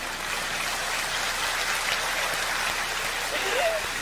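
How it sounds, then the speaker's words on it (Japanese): A theatre audience at a Japanese comedy impression show applauds in a continuous, even hiss of many hands. It sounds moderately distant and blurs almost like rainfall, with no clear speech over it. "どうして歌の時よりも拍手が多いの"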